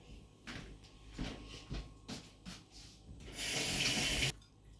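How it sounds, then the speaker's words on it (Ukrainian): A kitchen tap runs as hands are wetted while making syrnyky (cheese pancakes). Faint clattering and handling noises come first, then a short, steady rush of water for about a second before it stops. "Зараз я ще руки намочу водичкою."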